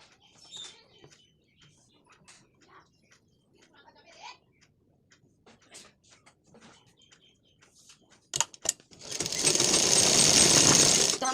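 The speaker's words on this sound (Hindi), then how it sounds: "अब हम आस्तीन की सिलाई करेंगे।" A sewing machine stitching a blouse sleeve starts up after quiet handling noises and a couple of sharp clicks, then runs in a loud, fast, steady whir until the end.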